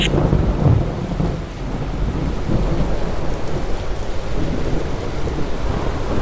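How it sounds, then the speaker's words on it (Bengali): Heavy rain with rumbling thunder in a thunderstorm, used as a sound effect in an animated story, a dense, steady, loud downpour with no voices. "বাইরে ভীষণ ঝড় বৃষ্টি হচ্ছে।"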